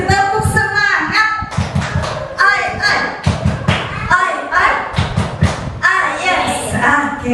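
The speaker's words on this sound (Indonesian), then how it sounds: "Tepuk semangat" Voices chant the rhythmic 'tepuk semangat' clapping routine at a kindergarten session, loud and close, with sharp, patterned claps falling in regular groups between the sung syllables.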